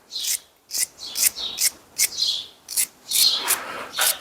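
Threadlocker is scrubbed off a rear suspension part from a Jaguar XKR in a series of sharp, close, rasping strokes, about a dozen in quick irregular rhythm, loud and alone with no talking.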